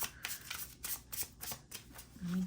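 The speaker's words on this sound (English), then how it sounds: "Let me give one more shuffle" A deck of tarot cards is shuffled by hand, rapid crisp riffling and flicking bursts repeating close up, fairly quiet, ending with a brief low hum.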